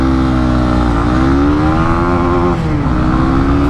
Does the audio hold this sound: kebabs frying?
no